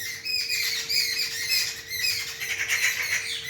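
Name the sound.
birds screeching and squawking outdoors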